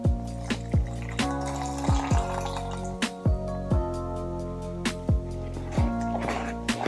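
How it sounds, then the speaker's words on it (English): Half a cup of water is poured into a bowl of mixed egg and flour for crepe batter, heard as a series of distinct, gurgling drips and splashes at an irregular pace, fairly quiet and close. "We're going to add 1/2 cup of water."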